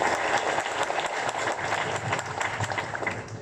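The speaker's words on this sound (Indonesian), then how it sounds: "Kita tepuk tangan dulu" Audience applause at a flag ceremony marking Indonesia's 77th Independence Day, a steady crowd clapping that fills the whole short stretch with no pauses.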